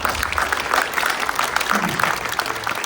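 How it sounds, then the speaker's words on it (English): Audience applause for conference panelists at a World Cup panel event, steady dense clapping from a room of people, moderately loud and continuous throughout. "Let's give a round of applause to our panelists."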